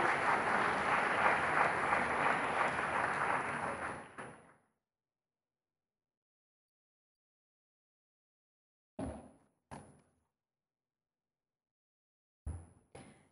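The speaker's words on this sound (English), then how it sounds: "A big round of applause for Iram." An audience at an Ambedkar Jayanti 2023 programme applauds with steady, dense clapping that fades out after about four seconds, followed by silence and a few isolated thumps.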